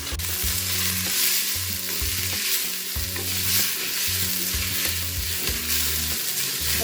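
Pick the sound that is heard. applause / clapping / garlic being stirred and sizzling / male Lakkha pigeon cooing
garlic being stirred and sizzling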